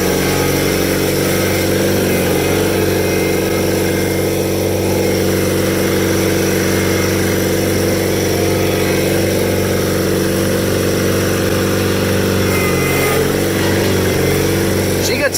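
A rare factory-built Cub Cadet garden tractor engine runs loud and steady as the machine is driven, a continuous mechanical drone with no breaks for the full stretch.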